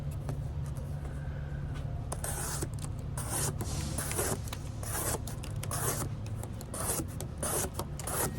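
A knife slices through regular-thickness cardboard in a cut test, making a close, steady rubbing, rasping scrape over repeated strokes, with short bursts of sharper tearing texture and a low background hum.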